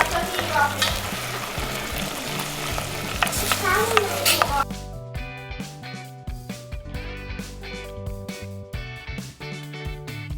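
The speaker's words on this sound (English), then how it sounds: "Add in sliced pork and stir fry until the meat is mostly cooked through." Sliced pork stir-frying in sesame oil in a pot, a loud steady sizzle with stirring scrapes, the frying continuing throughout with clattering utensil sounds over it in the second half.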